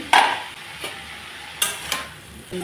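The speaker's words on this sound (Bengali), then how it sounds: "আবারও একটু নাড়াচাড়া করে দিচ্ছি" Curry is stirred in a pan with a spoon, giving a few scraping, clattering strokes over a soft sizzle. The sound is close, and the strokes come at irregular intervals.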